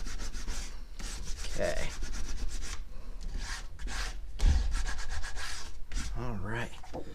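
A squeegee scrapes residue off an old, sticky Cricut cutting mat in repeated close, rasping strokes that sound like sanding, with a brief spoken word partway through.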